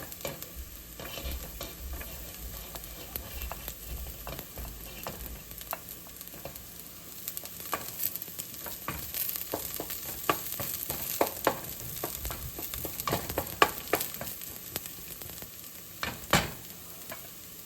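Garlic sautéing in a pan for chicken tinola, a steady close sizzle with occasional stirring scrapes and clicks throughout, no talking.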